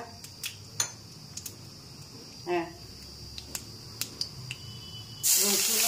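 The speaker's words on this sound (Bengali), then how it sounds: "রসুনও ফোড়ন দিয়ে দিলাম একটু" Garlic is tempered in hot oil that already holds dried red chilli and nigella seeds, for a spinach dish. A few small clicks and taps come first, then a loud, steady sizzle erupts near the end.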